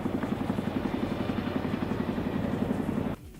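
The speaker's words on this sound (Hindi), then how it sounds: "इसके अलावा चिनूक हेलीकॉप्टर भी यहां अपनी ताकत दिखाता" A Chinook twin-rotor helicopter flies at a military show of strength over the sea off Singapore, its loud, steady rotor thump pulsing evenly for about three seconds before cutting off abruptly.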